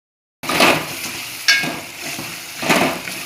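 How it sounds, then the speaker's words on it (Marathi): Mutton pieces sizzle loudly in a hot pan for a Khandeshi mutton dish, a steady frying hiss with a few stirring swells as the meat is turned, close and with no talking. "फ्राय होतोय आता हे मटणचे पीस सगळे टाकून घेते मी, याला बी चांगले परतून घेते"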